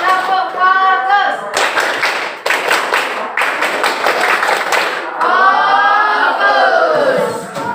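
Rhythmic classroom focus clapping, bursts of many hands clapping together in patterned beats between stretches of a teacher and children chanting.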